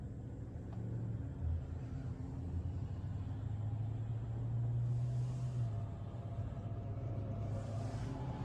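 A Tesla car driving itself in self-driving mode on a road in the United States, heard from inside the cabin as a steady low rumble of road and tire noise, quiet and continuous with no talking.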